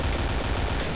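Rapid, dense gunfire from a Thai-played shooting video game featuring a classic, once-popular gun, sounding as continuous close bursts for about a second with no voices.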